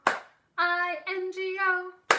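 Single sharp handclaps sound at the start and end of a sung line in the Bingo children's song, standing in for the sung letters, with a clear singing voice carrying the melody between them.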